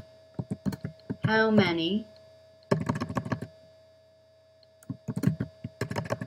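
Key presses on a computer keyboard while a poll question is typed, bursts of close, quick clicks alternating with pauses, with a brief spoken phrase partway through.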